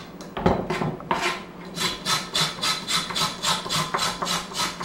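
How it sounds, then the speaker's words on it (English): Back of a kitchen knife scraping the skin off a carrot, a steady series of close, rasping strokes repeating in an even rhythm, loud and alone without talk. "And I'm just using the back of my knife to scrape the skin off."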